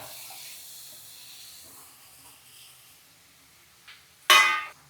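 Chopped ridge gourd tipped into onions frying in a pan sets off a sudden loud sizzling burst near the end, after a stretch of quiet low hiss.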